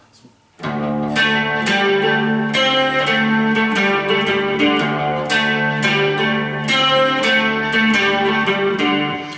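An electric guitar plays a distorted, chiming intro riff, starting abruptly and repeating with rhythmic strummed accents, loud and up close.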